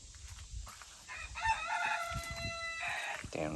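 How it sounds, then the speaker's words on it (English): A rooster on a farm lets out a loud, drawn-out crow in the middle, followed by a shorter clucking call, with low rumbling noise and faint human sounds in the background. "Damn rooster"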